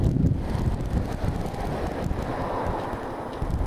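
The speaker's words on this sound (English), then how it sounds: "It's the windiest spot there is." Strong wind buffeting a car on a UK motorway while driving, a loud, steady roar with gusty low rumble throughout and no voices.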